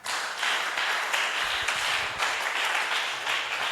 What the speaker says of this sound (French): Acclamez d'abord pour vous-même.